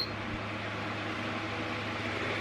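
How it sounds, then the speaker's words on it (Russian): A steady broadband whir of an ordinary floor fan running at high speed, constant and fairly close, with a faint low hum underneath and no talking. "Включаем вентилятор, обычный вентилятор за 2000 рублей."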